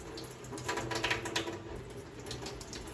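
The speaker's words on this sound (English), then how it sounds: "And now we're gonna rinse our hands." Water running from a faucet while hands are rinsed, a soft steady splashing stream with light irregular patter, quiet and close, no talk.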